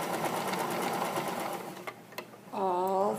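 Sewing machine stitching around pajama seams, a fast steady needle rhythm for about two seconds that pauses briefly, then restarts; close and moderately quiet, with a little talk.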